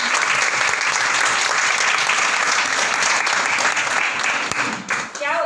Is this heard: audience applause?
yes